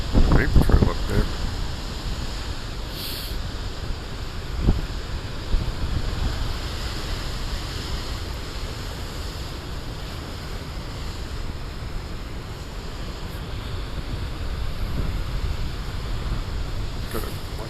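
Big ocean waves at Beavertail Lighthouse churn as a steady roar of surf under gusty wind buffeting the microphone, with a few louder crashes early on and continuous wash throughout.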